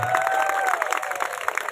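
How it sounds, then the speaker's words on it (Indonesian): Crowd applause and cheering at an evening HUT RI independence-day village event with a fashion show, dense clapping with a few shouts, steady and fairly loud throughout before cutting off. "Tepuk tangan untuk kita semua."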